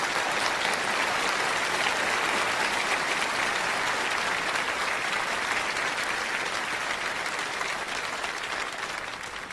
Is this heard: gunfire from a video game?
no